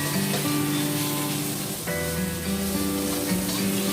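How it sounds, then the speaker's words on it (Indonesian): Onion and then meat frying in hot oil in a home kitchen, a steady dense sizzle with crackling throughout, close and fairly loud, with no voices. "Tumis harum bawang, kemudian masukkan daging."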